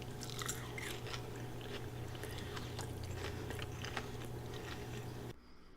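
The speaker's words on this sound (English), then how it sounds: "I'm going to let you hear the crunch." Close, crisp crunching and chewing of fried cheese wedges coated in pork rind. Bites crackle repeatedly for several seconds with no talking, then the sound cuts away.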